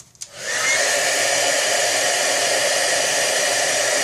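A heat tool for embossing powder on a stamped card clicks on and quickly builds to a loud, steady, hair-dryer-like whoosh of hot air. The blowing holds close and constant without any speech.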